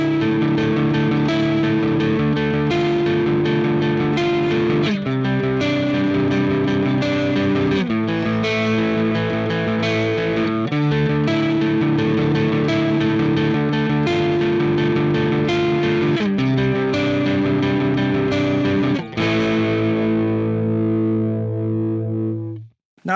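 A clean-toned electric guitar played through an amp with no pedal engaged, chords and notes ringing steadily and loudly for about twenty seconds with no talking, then trailing off.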